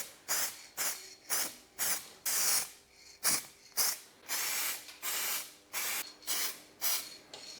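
Repeated short bursts of aerosol plastic primer sprayed onto burned BMW 335i car parts, about a dozen hissing blasts in a steady rhythm, close and fairly loud with no talking.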